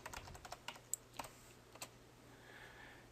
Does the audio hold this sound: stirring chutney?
no